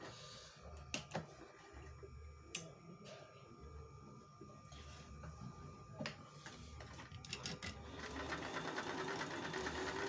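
An old-model Janome sewing machine stitches a crescent moon pattern, its needle mechanism whirring and ticking at a low, uneven pace with a few sharp clicks, faint and close, rising slightly toward the end.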